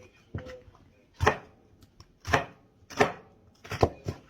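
A knife chops paprika peppers into julienne strips on a cutting board, five sharp, distinct cuts spaced about a second apart, close and clear with no talking.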